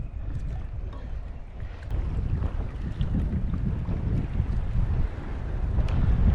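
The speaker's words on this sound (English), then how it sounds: "Wind's picking up a little bit, but still nothing major." Wind blows across the open ocean during kayak fishing off Hawaii. It rumbles constantly against the microphone and builds toward the end, with faint water sounds beneath it.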